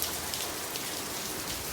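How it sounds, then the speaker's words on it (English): Steady rain falls outdoors, a continuous soft hiss of drops hitting surfaces during work on a 2015+ Subaru STI's fender well, with no voices or other sounds. "where did this rain come from?"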